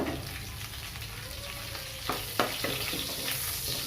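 Dry red chilies, garam masala and bay leaves sizzle steadily in hot oil, a continuous crackling hiss with a few sharper pops and scrapes near the end.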